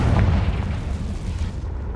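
A Confringo blast spell in Hogwarts Legacy goes off as a single loud, deep boom that rolls off and fades over about two seconds, with no speech.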